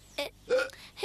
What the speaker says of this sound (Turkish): Hıçkırıyor işte. Hıçkırıyor.